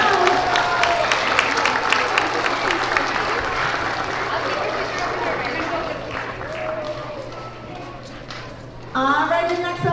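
Applause from a school assembly audience for first graders at a Pre-K to 2nd grade character education event: steady dense clapping throughout, loud and close, with a voice speaking briefly near the end.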